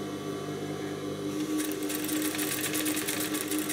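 Sewing machine stitching a seam on a striped blouse, a steady close mechanical whir that speeds up into a fast, even rattle partway through, heard alone with no talking.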